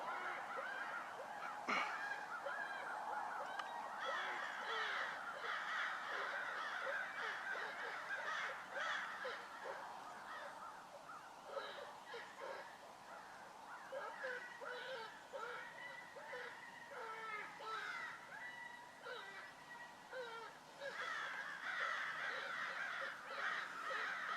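Crows cawing repeatedly outdoors during a predator hunt, harsh calls in irregular bursts at moderate distance over a quiet field background, with some faint talking.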